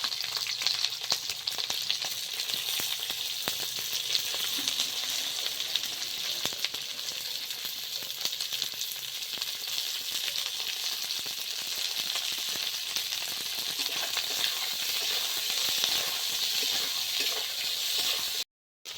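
Onion pieces fry in hot oil in a pan while chilli cauliflower is being cooked, a continuous even sizzle with faint stirring scrapes, lasting throughout before cutting off abruptly at the end.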